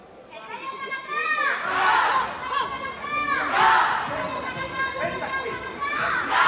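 Spanish supporters in the crowd at a women's -42 kg semi-final bout cheer and shout encouragement to their fighter, a loud sustained wave of voices and calls rising and falling across the arena.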